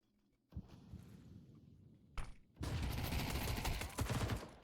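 Gunfire in a competitive video game match, a short burst followed after a pause by sustained rapid automatic fire, fairly quiet and dense, with no speech.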